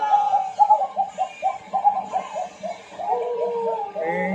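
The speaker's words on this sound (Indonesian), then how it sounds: "Ringtone burung hitam setan." An eerie crow ringtone plays a string of short, clipped bird calls in quick succession, then a longer, wavering cry near the end, fairly clear against a quiet background.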